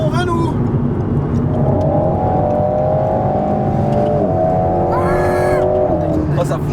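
Alpine A110 sports car accelerating hard on a road, its engine note climbing steadily through the gears with a brief lift between shifts, loud and close from inside the cabin while people talk over it.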